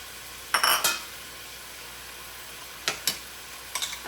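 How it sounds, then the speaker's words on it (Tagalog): Sausage goes into a pan while Bicol Express cooks, giving a few short clattering bursts of utensil and pan contact against a quiet background, spaced apart with no talking. "Ilagay natin itong sausage."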